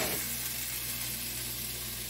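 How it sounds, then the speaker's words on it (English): Jalapenos sizzle in a skillet, a steady, close, bright hiss of frying that holds evenly throughout with no talk. "Here it's sizzling."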